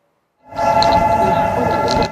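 A packed Seoul subway Line 9 train stands at a crowded platform, a steady loud rumble of rail noise with a sustained tonal hum rising in after a brief silent start and holding to the end.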